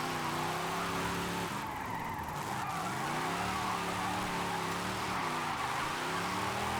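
A low-horsepower car drifting and skidding in Forza Horizon 5, with a sustained engine drone and long tire squeal that rises and dips through the slide, no voice over it.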